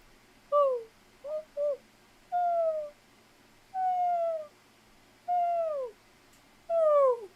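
A human voice imitates a realistic owl with about seven descending hoots in uneven groups, fairly clear against a faint background hum.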